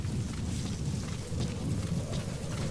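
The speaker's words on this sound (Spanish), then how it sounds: "Se acerca una tormenta." Approaching thunderstorm in Metal Gear Solid V: The Phantom Pain, a dense low rumble of thunder under a constant hiss of rain and wind, steady and fairly loud, with no talking.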